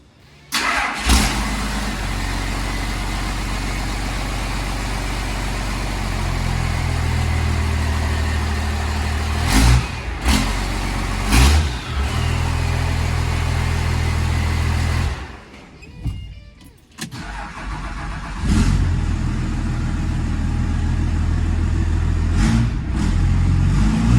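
Cummins diesel engine with a new exhaust cranks and starts, then idles with a deep rumble broken by several sharp revs and a brief drop-off, loud and close with no talking.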